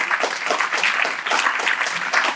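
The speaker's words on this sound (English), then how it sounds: "Please give her a rousing applause" Applause at a UN General Assembly side event for a UNICEF peace song program, a dense steady clatter of many hands filling the room without pause, fairly loud and continuous.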